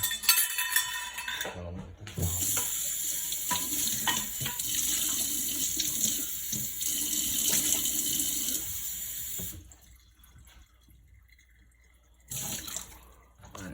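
Warm water runs from a kitchen tap into a sink for about half a cup while preparing masa for pupusas, a steady hissing stream that stops twice briefly, with faint clinks and no talking.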